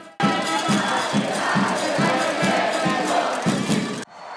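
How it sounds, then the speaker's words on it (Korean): Big crowd of Mexican national team fans cheering and chanting as the squad arrives at its hotel in Guadalajara, loud and close, with rhythmic beats pulsing under the roar before it cuts off near the end. "엄청난 숫자의 팬들이 몰려들어 환호성을 지르며 힘을 불어넣어"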